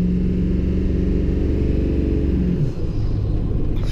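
Ford Power Stroke diesel truck with a repaired EBPV pulling hard under boost, a loud, steady low engine rumble and drone that dips briefly near the end, heard close with no voices.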